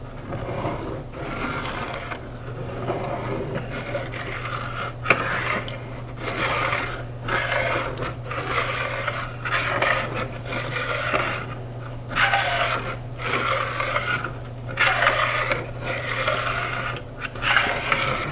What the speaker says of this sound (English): I'm just going to stir that around and scrape up all that yummy goodness off the bottom of the skillet